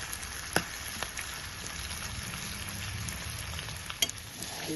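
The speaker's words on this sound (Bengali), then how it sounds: "কাসুন্দিটা দেওয়ার পরে অল্প একটু নাড়াচাড়া করবো।" Chicken being stirred into kasundi mustard sauce in an oily pan, with a steady close sizzle of frying and a couple of sharp spoon scrapes against the metal. There is no talking.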